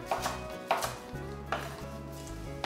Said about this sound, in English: I just do what it takes to chop this kale.